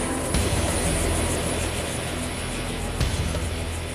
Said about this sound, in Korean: 밤새 어둠 속에서 휴식을 취하던 공격 헬기가 다시금 자신의 위용을 드러낸다.